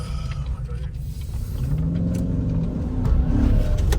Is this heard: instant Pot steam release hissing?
no